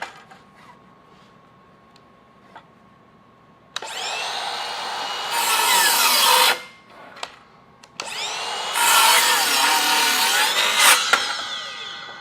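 A Ryobi 18V miter saw cuts a wooden 2x4 at a 45-degree bevel in two loud, close whining passes, with a short lull between them and quiet handling before the first cut.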